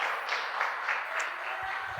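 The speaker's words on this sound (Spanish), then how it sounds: "déle unas palmas allá al Señor por su misericordia." Congregation applauding in a church during a Spanish-language sermon, a steady broadband wash of many hands clapping for the full stretch, moderately loud and even, with a faint voice near the end.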